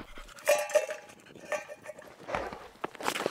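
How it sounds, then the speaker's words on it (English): A dog plays with a metal food dish, producing scattered metallic clanks and rattles at irregular intervals, fairly faint and close, with no speech. "We have a dog that plays with a metal food dish."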